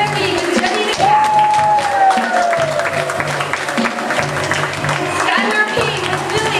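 An audience applauds graduates of a Muppet-style puppet making workshop, steady clapping and crowd noise running throughout, with a voice and a sustained whistle-like tone rising over it.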